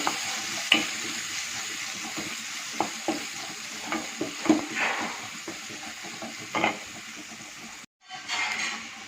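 Finely chopped onions sauté in a pan for chana masala, sizzling steadily. Close, sharp scrapes and clacks of stirring rise over the frying sound.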